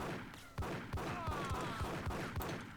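Rapid bursts of gunfire in the video game Max Payne, a run of sharp repeated shots in quick rhythm over a steady game background, loud and close.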